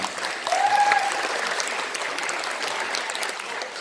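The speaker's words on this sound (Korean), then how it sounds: "큰 환영의 박수 부탁드리겠습니다" Audience applause at a Rotary International District 3600 public image seminar, welcoming a speaker to the stage; steady clapping from a sizable room for a few seconds without talk.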